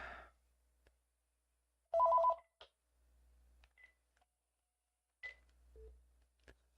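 A telephone line signals an unused number: a short burst of tones, then a few isolated beeps and clicks separated by silence, clear and close with no one talking.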